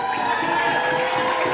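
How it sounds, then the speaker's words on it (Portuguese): A crowd at a youth under-11 football match roars and cheers for a player, a broad sustained wash of many voices with some tonal hum beneath. "Ele é aplaudido pela torcida."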